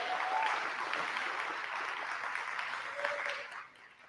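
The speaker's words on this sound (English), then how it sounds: "you can applaud for her right now, because she deserves it" An audience applauds at a film festival awards ceremony, steady broadband clapping from a crowd, fairly quiet and distant, sustained for about four seconds before tapering off at the end.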